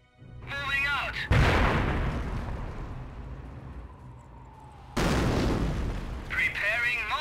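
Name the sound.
mortar barrage firing in Company of Heroes video game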